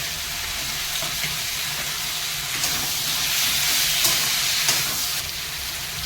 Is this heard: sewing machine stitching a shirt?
no